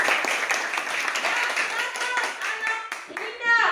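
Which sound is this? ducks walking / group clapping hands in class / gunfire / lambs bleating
group clapping hands in class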